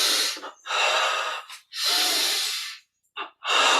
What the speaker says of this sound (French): Inspirez à fond pour beaucoup d'oxygène